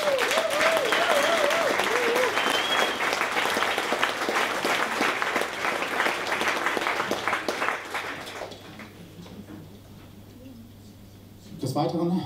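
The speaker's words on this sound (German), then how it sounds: "ganz großen Applaus" An audience at a congress in Hamburg applauds with steady, dense clapping that fills about eight seconds and then fades, a voice briefly audible at the start and a short noise at the end.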